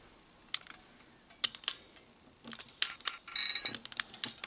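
A 2005 Ben 10 Omnitrix FX toy gives off scattered electronic beeps and chirps, then a brief louder warbling tone burst, with faint handling clicks and no speech.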